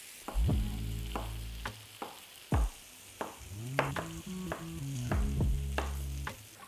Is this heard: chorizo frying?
yes